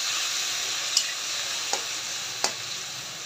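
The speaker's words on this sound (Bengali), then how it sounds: "পেঁয়াজের সাথে টমেটোগুলো ভালো করে ভেজে নিই।" Onion and tomato with a little salt fry in a pan, a steady soft sizzle punctuated by three brief spoon scrapes as they are stirred, close and alone.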